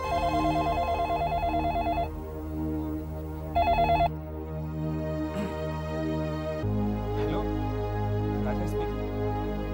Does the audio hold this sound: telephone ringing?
yes